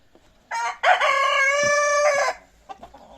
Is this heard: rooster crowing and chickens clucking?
yes